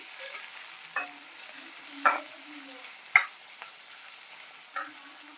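Onions soften in a pan with a soft, continuous sizzle for a home-style bhendi masala, broken by a few sharp spatula scrapes and taps spaced about a second apart.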